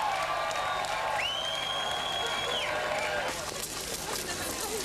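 A large crowd in West Berlin cheers and shouts continuously, a dense roar of many voices with a whistle-like tone rising over it, steady and loud throughout.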